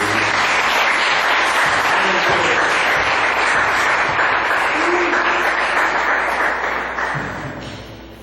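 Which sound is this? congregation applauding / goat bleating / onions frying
congregation applauding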